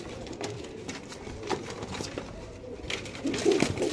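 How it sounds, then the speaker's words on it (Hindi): Pure-bred pigeons at an Indian pigeon farm coo softly and repeatedly in a low register, with faint rustling and patter of birds close by. "प्योर जांटे वाला कबूतर है भाई जी"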